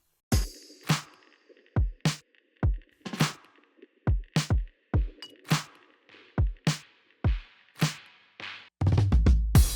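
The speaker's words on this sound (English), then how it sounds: "Moving on to the pre-chorus, we have a more stripped down version of the drums, which sound like this." A stripped-down dark pop drum pattern for a pre-chorus plays alone, sharp kick and snare hits with short tails in a steady, sparse groove, ending in a denser burst of noise.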